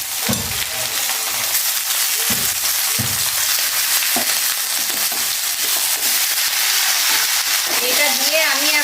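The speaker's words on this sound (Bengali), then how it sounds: "এটা দিয়ে আমি এখন 5-7 মিনিট ভাজবো ভালো করে" Washed chicken added to browned onions and frying in a pan, a loud sizzle with clattering stirs and knocks of a spatula against the pan, no speech.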